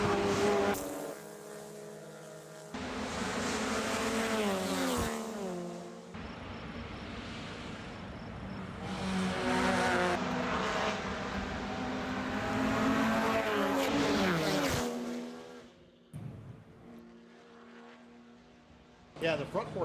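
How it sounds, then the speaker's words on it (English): Porsche club race cars pass at Lime Rock Park, engines rising and falling as several cars go by in succession, loud at times, under steady commentary from announcers. "the front 4 cars here, Andreas, as they come through, coming out of turn 7 now"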